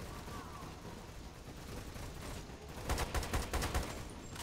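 Gunfire breaks out in the video game Lost Planet 2, a quick burst of several sharp shots near the end over a constant background hum of game sound, with people talking quietly over it.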